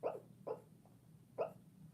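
A sleeping dog named Lilac lets out three short, muffled woofs, two close together and a third after a pause, soft and nearby over a low steady background hum, with no talking.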